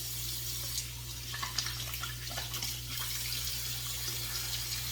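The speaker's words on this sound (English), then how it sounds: "I'm gonna soak my sink here with some warm water and wash my face real fast" Warm water running from a tap into a bathroom sink: a steady soft splashing stream, close and continuous, with a low background hum and no speech.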